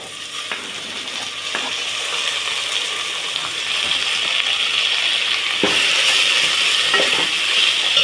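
Chopped onions and finely diced tomatoes sauté for sambar in a pan, giving a steady, close sizzle with soft scraping stirs and occasional spoon knocks, the frying growing slightly louder toward the end.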